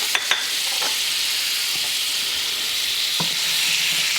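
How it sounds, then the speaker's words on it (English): Melting butter sizzles steadily in a hot pan holding sauce flavourings while a utensil scrapes the bottom, a constant close hiss broken by a few faint scraping strokes. "we scrape up all the good bits on the bottom of the pan as our butter melts"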